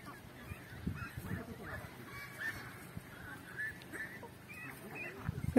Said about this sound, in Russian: Гуси.